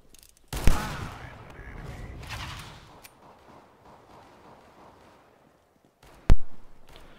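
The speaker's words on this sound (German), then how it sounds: "Da kommen jetzt Schüsse. Überall Schüsse." Two sharp, loud gunshots go off in a Counter-Strike: Global Offensive deathmatch, far apart. The first is followed by a rumbling, echoing tail and a faint click, then near silence before the second shot cracks close by.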